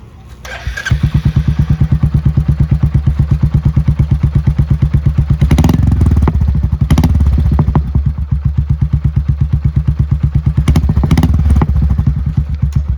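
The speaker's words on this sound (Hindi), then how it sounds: "तो आपको मैं इस गाड़ी का थंब सुनाता हूँ।" Royal Enfield Meteor 350 fitted with a Globe Dolphin premium exhaust, catalytic converter still in place, idling with a loud, steady, close thump of rapid regular pulses, a brief rev swelling around the middle and near the end.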